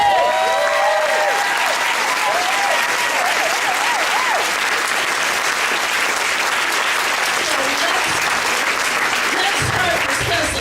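A large audience at a talk on race applauds loudly and continuously, with whoops and cheers rising over the dense clapping at the start.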